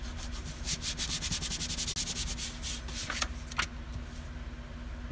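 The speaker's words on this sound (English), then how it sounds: "use my bone folder. Make sure it's stuck." A bone folder rubs and presses glued paper flat during bookbinding, giving a close, steady scraping swish in rhythmic strokes, with a few sharper taps near the end.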